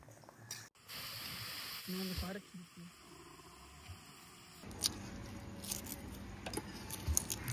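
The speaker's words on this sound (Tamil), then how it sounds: "இதை இப்போ இந்த எண்ணெயில் போட்டு வறுக்க ஆரம்பிச்சிடலாம்." Chopped onions fry in hot oil over a medium flame, giving a soft, steady crackling sizzle that grows busier partway through, with a voice speaking over it.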